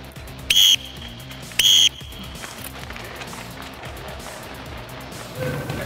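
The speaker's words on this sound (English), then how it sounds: "2 whistles, get ready." Coach's whistle at a college football practice, two sharp, loud blasts about a second apart, then steady field noise and a faint distant sound near the end.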